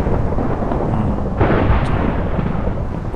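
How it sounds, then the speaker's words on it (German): Thunder from a Minecraft thunderstorm weather effect: a loud, continuous rumble with a heavier rolling crash around the middle, steady and alone without talk. "das Gewitter ist echt tierisch laut"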